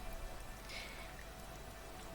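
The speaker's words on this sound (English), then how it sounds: "it's kind of foggy and it is rainy" Faint, steady rain hisses evenly on a foggy day, a soft continuous wash with no voices.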